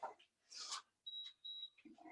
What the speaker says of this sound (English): Ignore that buzzer.